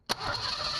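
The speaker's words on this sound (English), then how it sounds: "I'm going to crank it over and recheck it." A 1990 Ford Mustang engine with newly installed injectors cranks briefly and catches, then settles into a steady idle, heard up close.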